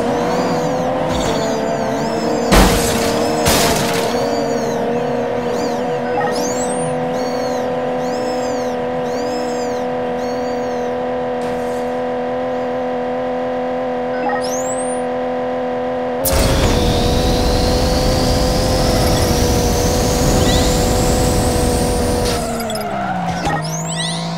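Racing cars in the Fast & Furious Spy Racers video game hold a loud, steady engine drone with repeated tire squeals and skids, then a harsher surge of acceleration near the end.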